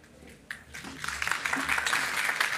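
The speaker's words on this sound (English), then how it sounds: "Yes, applause time." Audience applause after a conference talk on research and innovation trends, clapping building steadily from scattered hands into fuller applause, moderately close with a brief voice beneath.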